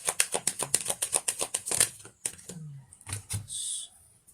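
Tarot cards are shuffled by hand in a quick run of crisp riffling flicks, then a few slower card slaps and slides, close and fairly quiet.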